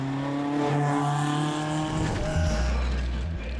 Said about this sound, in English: The engine breathes down your neck, and there's no trace of noise insulation.